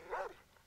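A single short dog bark, fairly faint and slightly distant, followed by quiet background.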